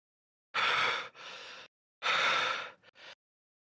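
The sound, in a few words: player imitating heavy panting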